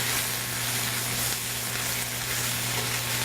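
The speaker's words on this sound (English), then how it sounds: "So we let that saute in a nice hot heat for a few moments." Kale and garlic sautéing in a hot pan, a loud continuous sizzle and fry with a steady hiss throughout.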